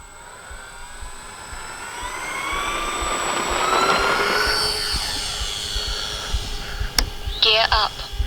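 Dynam B-26 Marauder twin-engine RC model plane taking off in calm air, a steady electric motor whine rising in pitch and loudness as it passes near, then fading with a short burst of nearby voices at the end.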